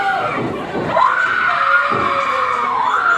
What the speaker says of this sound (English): there's that annoying scream of the Duchess that they're playing over the loudspeaker